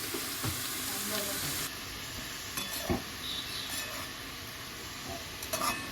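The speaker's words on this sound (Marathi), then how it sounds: "तर आता भाजी टाकली आहे" Kurdu, a wild leafy vegetable from the Konkan forests, frying in a pan gives a steady, fairly loud sizzling hiss with occasional stirring clicks and faint scrapes, no voices over it.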